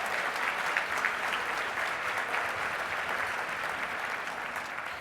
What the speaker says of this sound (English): how much more clapping do we have?